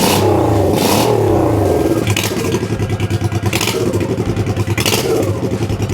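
Honda Shadow 1100 motorcycle fitted with a new exhaust revs hard and close up, several loud throttle blips rising over a deep, lumpy idle, with no voices.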